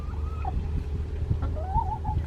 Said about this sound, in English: There's actual chickens in here.